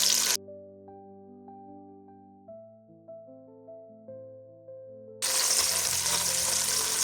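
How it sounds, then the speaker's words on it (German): Chili peppers fry in a pot with a broad hiss and sizzle at the start and again at the end, while soft, plinking melodic notes play in between. "Jetzt können wir die Chilischoten mit anbraten."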